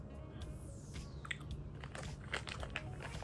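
Sour-then-sweet gummy candy bitten and chewed close to the mic, with soft, scattered crunchy and sticky mouth sounds that grow busier toward the end.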